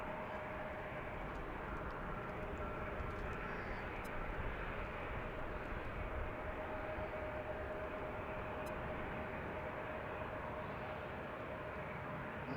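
An airliner passes low overhead at Washington's Reagan National Airport near Gravelly Point, a broad rumbling jet roar that stays steady and heavy across the whole span, faint and somewhat distant in level, with no clear talk.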